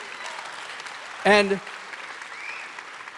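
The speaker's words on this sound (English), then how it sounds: "Can I get a huge round of applause for the teams that made that happen?" An audience applauds the IPFS teams at a Protocol Labs event, a broad, steady patter of clapping throughout, briefly interrupted by a single spoken word near the middle.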